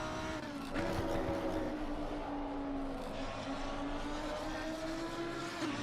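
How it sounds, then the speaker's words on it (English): Racing car in a sim-racing league event at Suzuka, its engine holding a loud, steady whine with shifting pitch as it runs over the kerbs through the esses, with faint rumble underneath and no voices. "You hear him going on the curbs, using every inch of the track where he can."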